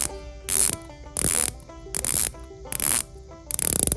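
Rotating bezel of a Tudor Pelagos watch turned in short bursts, five groups of dense, rapid close-up ratcheting clicks separated by brief pauses, with a faint steady tone underneath and no speech.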